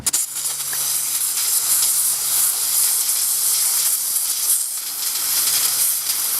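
Propane with silicone oil hisses steadily from an adapter into an ICS Challenger Hi Capa airsoft pistol, a loud, even gas rush that runs without a break for several seconds.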